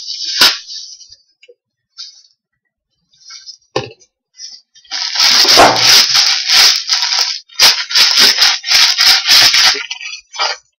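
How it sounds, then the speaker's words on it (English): Intermittent crinkly rubbing and swishing of plastic being wiped, brief bursts at first, then a longer stretch of steady, close-up rustling. "I gotta wipe this bag down."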